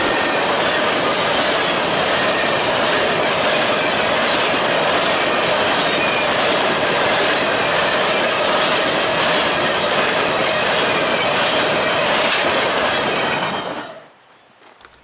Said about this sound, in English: So this is our first train.